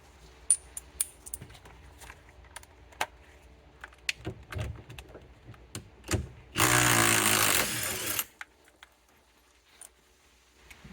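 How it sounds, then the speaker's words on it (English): An impact wrench breaks loose the steering wheel bolt on a 2008-2020 Dodge Grand Caravan. A single loud, rattling burst of under two seconds stands out after scattered clicks and tool handling, then everything goes quiet. "Whether you have an impact wrench or use a large breaker bar, hold the steering wheel and be able to loosen that up."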